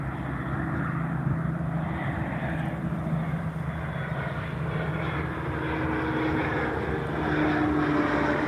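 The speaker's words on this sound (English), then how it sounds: "Trooper gets their plane up in the air as they also had the helicopter up in the air." A police plane takes off at Albany International Airport, its propeller engine droning steadily at a distance with a low, continuous hum that swells slightly toward the end.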